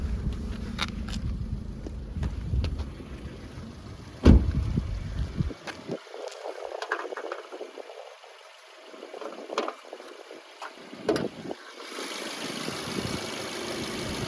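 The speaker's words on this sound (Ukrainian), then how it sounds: "Двигун працює рівно, без зайвих масляних п'ятень чи посторонніх шумів." 2012 Mazda 3 engine idling with the hood open, a faint steady running hum with scattered clicks and knocks.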